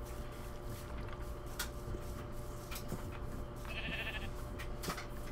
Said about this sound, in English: Tons of sheep over here.